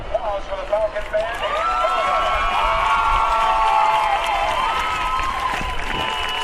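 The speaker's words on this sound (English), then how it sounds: "another round of applause for the Falcon Band." A crowd applauds a marching band steadily at a marching band invitational, the clapping swelling over a few seconds, with faint cheers mixed in.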